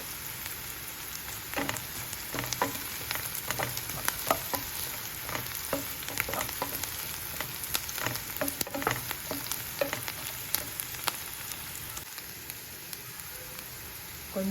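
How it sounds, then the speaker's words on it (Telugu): Curry leaves fry in hot oil for capsicum fry, giving a crackling, spitting sizzle full of rapid sharp pops and bursts, close and continuous, with no talking. "ఆయిల్లో బాగా వేగనివ్వాలి."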